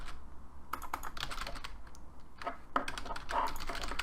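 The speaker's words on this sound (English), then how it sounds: "I'm typing but nothing's happening" Typing on a computer keyboard: a close, steady patter of key clicks running throughout at a moderate pace, with a few louder strokes standing out, and no voices.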